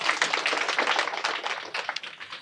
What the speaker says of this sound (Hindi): चलिए आप मेरे लिए तालियां बजा दीजिए